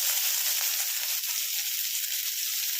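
Spices crackling in hot oil before onions go in, for a methi pumpkin curry, a steady bright sizzle heard close and alone throughout.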